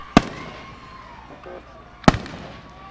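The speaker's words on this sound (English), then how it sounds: "go directly in to the fireworks display to round out the show here for the crowd" Two sharp firework bangs burst about two seconds apart, each with a short crackling tail, over a quiet background, closing a monster truck show.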